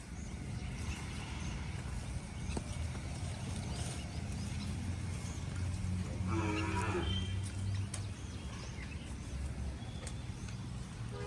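A Kankrej cow gives one long, deep moo partway through, heard clearly over a constant low background hum.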